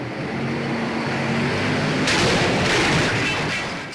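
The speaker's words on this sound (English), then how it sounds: "How bad was that accident really? What if it sounded like this?" A car crash sound effect: a rumbling vehicle approach gives way to a sudden loud impact burst with crunching, hissing debris that lingers and fades.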